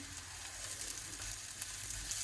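Shallots and broccoli rabe frying in a stir-fry pan on low heat, a steady close crackling sizzle that holds even throughout, with no one talking.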